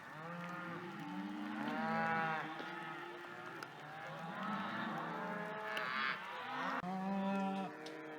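Cattle that have roamed through an open gate in the West Elk Wilderness moo repeatedly, several overlapping calls at moderate distance.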